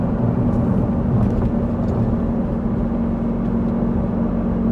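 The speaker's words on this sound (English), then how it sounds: "That engine sound is just incredible in this car." A mid-engine Italian sports car with a manual gearbox accelerates in first gear, its engine giving a steady, close, droning hum with a strong low tone. The sound carries on unbroken for a few seconds with no talk.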